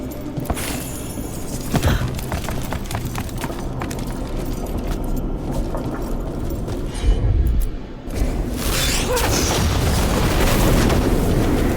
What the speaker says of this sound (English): Is that a mortar?